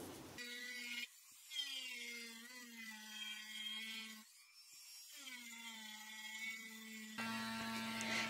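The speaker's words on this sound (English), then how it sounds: "The Dremel is kind of leaving more scratches in the wood because it's so powerful" A high-pitched Dremel rotary tool whines steadily, dipping briefly and revving back up a few times as it sands wood; no voices.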